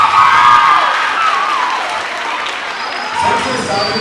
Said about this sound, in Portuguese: Uma salva de palmas pro Ian, fazendo um favor.